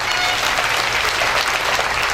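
An audience at a Brahma Kumaris stress-relief gathering in Munger, Bihar claps loudly and continuously, a dense, close burst of hand claps with no voices over it.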